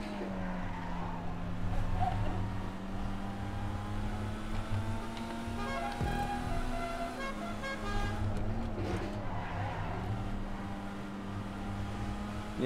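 Issi Sport car in GTA 5 racing around a track, its engine whining and shifting pitch steadily with tire squeal and skidding through corners, loud and continuous.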